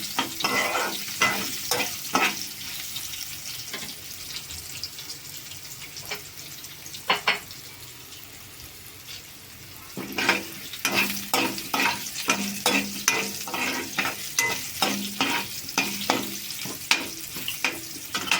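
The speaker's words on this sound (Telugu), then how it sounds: "లైట్గా కొంచెం అలా ఫ్రై చేస్తే సరిపోయింది పచ్చివాసన లేకుండా ఉంటుంది" Spices fry in hot oil for a raw wood apple chutney, a sizzling hiss broken by quick, rhythmic scrapes of stirring that ease off midway and then return faster and closer.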